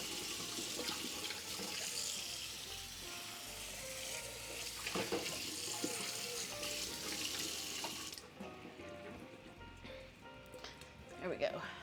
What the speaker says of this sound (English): Because you just use a sieve and pour it through that.